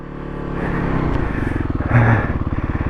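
A Kawasaki KLX300SM supermoto motorcycle engine runs steadily and loud nearby, its fast pulsing rising slightly in pitch as it revs and pulls away.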